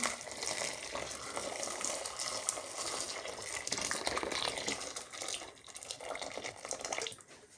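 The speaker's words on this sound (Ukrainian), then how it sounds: "Запарюю не кидаю кип'яток, а просто заливаю отак кип'яточком, накрию кришечкою." Boiling water is poured over food in a home kitchen, a continuous close, hissing splash of liquid that rises and dips in loudness, with no talking.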